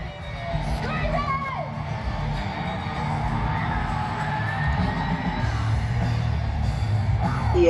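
Festival crowd at Bonnaroo screaming, yelling and whooping together in a dense, sustained roar that holds steady throughout, with individual shouts rising above the mass of voices.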